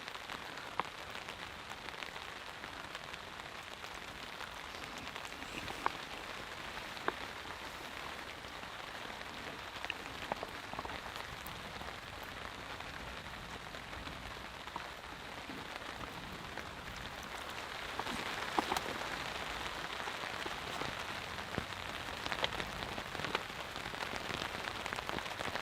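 Heavy rain drums steadily on a camping tarp overhead in cool weather, a dense, continuous hiss of drops with occasional louder splats, close and unbroken throughout with no voices.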